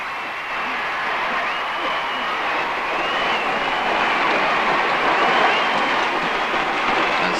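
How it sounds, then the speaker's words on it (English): Street crowds cheer the visiting President as a broad, steady roar of voices and applause that holds for the whole stretch, loud and dense, with no single voice standing out. "crowds waited to cheer the President"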